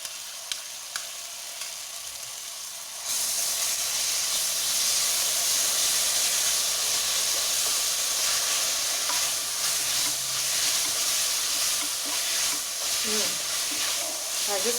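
Ginger garlic paste drops into a hot pan: quiet room tone for a few seconds, then a sudden loud hissing sizzle that holds steady and close, with faint spatters and stirring toward the end.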